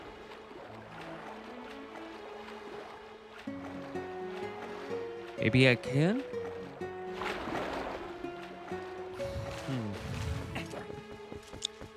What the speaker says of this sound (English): It's definitely a waterfall